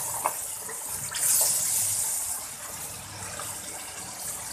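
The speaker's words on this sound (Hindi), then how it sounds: "इसमें थोड़ा सा मैं पानी का छींटा लगाऊंगी" A splash of water poured into masala frying in a pan for an aloo pakora salan, giving a brief gushing, hissing burst that rises and then settles into a steady sizzle.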